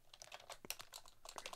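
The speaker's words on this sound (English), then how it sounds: "A lot of typing" Rapid, close typing on a computer keyboard, a quick irregular run of crisp key clicks with a few brief pauses and no voices.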